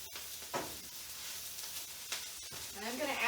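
Cooked pasta tossed into a pan of sautéed kale, a low sizzle with a few scraping stirs and a brief louder crackle near the end.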